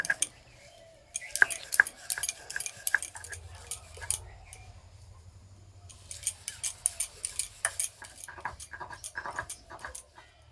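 Roasted sesame seeds are ground into powder for til pitha, producing two rattling, crunchy bursts of quick clicks over a low hum, with quiet pauses between.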